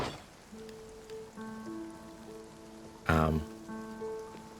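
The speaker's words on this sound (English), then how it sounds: "is it because it's raining?" Rain falling in the video game Spiritfarer, a soft steady patter with gentle musical tones drifting over it and a sudden brief loud burst near the end, no voices.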